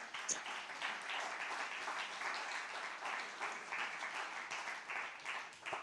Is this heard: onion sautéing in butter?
no